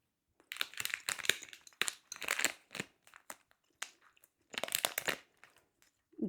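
Jelly cola bottle sweets are chewed close to the mic, giving wet, sticky crunching and squelching in several bursts separated by short pauses, with no talking.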